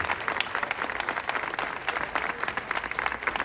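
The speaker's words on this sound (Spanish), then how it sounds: "el aplauso, fuerte el aplauso, éxitos a esta banda sinfónica." An audience applauds a military symphonic band of an infantry battalion in Mexico, lively, uneven clapping with individual claps popping out of the crowd noise, fairly loud and unbroken.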